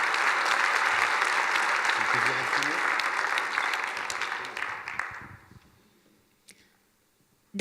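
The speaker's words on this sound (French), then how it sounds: "Je pense qu'on peut encore l'applaudir une fois parce qu'elle le mérite." Audience applause at a cooperative-enterprise award ceremony, a sustained round of clapping from a sizeable crowd that fades out after about five seconds, followed by near silence and a final faint knock.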